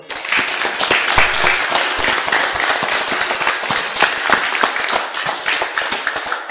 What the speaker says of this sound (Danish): Skal vi ikke lige give dem en hånd?